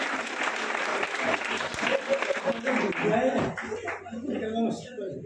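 An audience at a play about the life of Guru Inder Dinn Suri ji bursts into loud, sustained applause that thins out toward the end as voices rise through it.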